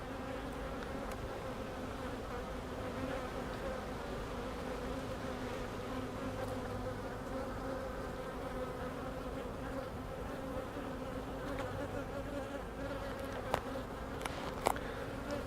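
Honey bees hum in a dense, continuous drone around a beehive during a search for a new queen after an artificial swarm, the buzzing close and steady with a few faint clicks and no talking.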